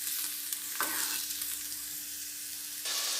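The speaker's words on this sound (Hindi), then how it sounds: "ये फ्राई हो चुकी हैं छिलके।" Bitter gourd peels frying in hot oil, a dense steady sizzle with a stirring scrape near the start, close and alone.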